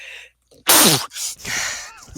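A single loud sneeze bursts out close by, preceded by a short sharp intake of breath and followed by a brief exhale.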